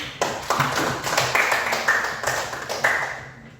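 A school class claps in a quick, uneven patter of applause that starts sharply and fades out over a few seconds.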